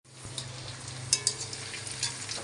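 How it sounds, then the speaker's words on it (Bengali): Potatoes fry in hot oil in a pan with a soft, steady sizzle and a few light crackles and stirring taps, faint and close by. "অল্প অল্প আছে ভাজতে হবে।"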